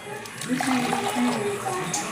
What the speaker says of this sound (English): Pouring 1 cup of hot water.